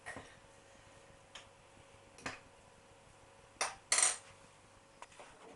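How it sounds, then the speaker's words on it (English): Fork pressing down the topping of a fish pie in a baking dish, several sparse light taps and scrapes of metal against the dish, close and quiet. "Then we go around and press it down with a fork."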